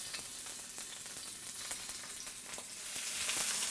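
Shrimp and squid searing in a hot pan for a Thai dry tom yum seafood dish: a close, continuous crackling sizzle with sharp spitting pops that grows slightly louder toward the end, with no talking.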